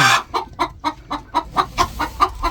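A laying hen in straw nest boxes at a free-range home flock clucks in a steady series of about ten short, evenly spaced calls, close and clear with no talk.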